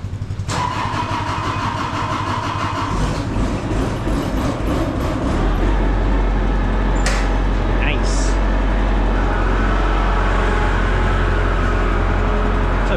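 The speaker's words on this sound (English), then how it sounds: "See if the Kubota will start here now." A Kubota mower engine cranks and catches, then settles into a steady, loud, close running drone that continues to the end, with someone speaking over it.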